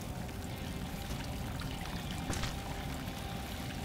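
Water trickling and pouring down in the dark game Salt and Sanctuary: a steady, even splash and trickle of moderate loudness that runs unbroken throughout, with a faint single drip standing out midway.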